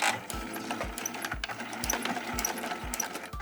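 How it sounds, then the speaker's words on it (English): A sewing machine back stitches at the start of a seam on a fabric shoe bag, running in short close bursts with regular thumping pulses, no voices. "I just want to make sure to back stitch at the beginning"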